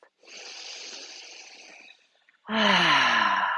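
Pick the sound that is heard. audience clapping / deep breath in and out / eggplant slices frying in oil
deep breath in and out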